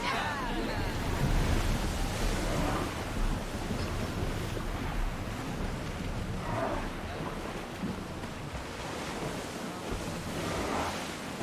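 A sailing ship out on open ocean waves in Assassin's Creed Odyssey, with a steady wash of surf and wind roaring continuously around the hull for the whole stretch.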